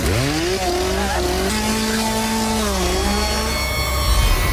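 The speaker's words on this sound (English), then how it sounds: "You have a chainsaw that comes after you." A chainsaw in a Halloween haunted cornfield attraction roars continuously with rising and falling pitch sweeps, loud and close, dense mechanical buzzing throughout with no speech.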